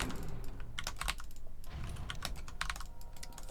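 Rapid, close computer keyboard typing clatters in uneven bursts of keystrokes during a Dota 2 gaming session, with no speech.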